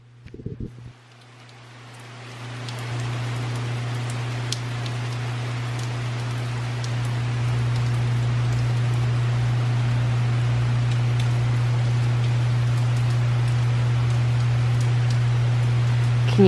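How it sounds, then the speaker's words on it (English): Steady rain patters continuously on foliage, a soft even hiss with scattered drips, over a low constant hum, no voices. "I love rain."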